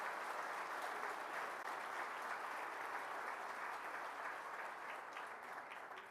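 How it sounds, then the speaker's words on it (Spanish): A church congregation applauds the Lord during a service with steady, dense clapping. The clapping is faint and distant, tapering slightly toward the end. "Dale un aplauso al Señor"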